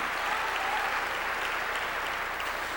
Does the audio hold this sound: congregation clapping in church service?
yes